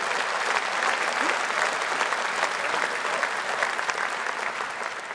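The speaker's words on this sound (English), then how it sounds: "Got a round of applause." A political audience applauds at a Reform UK event with Nigel Farage, dense continuous clapping holding steady and fairly loud from start to finish, with no speech over it.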